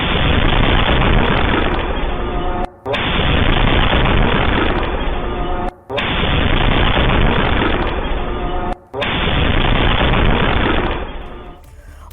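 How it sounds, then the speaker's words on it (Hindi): Continuous loud bursts of gunfire and explosive blasts in Pakistan roar in long stretches, separated by brief gaps, sounding harsh and heavily distorted. "आपको गोलीबारी और धमाके दोनों की आवाज सुनाई देगी"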